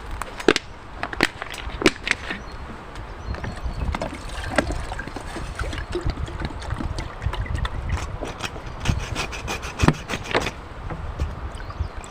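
A knife or small hatchet splits wood into small thick sticks for a wood-chip camp stove outdoors, giving repeated sharp irregular knocks and cracks over steady background noise.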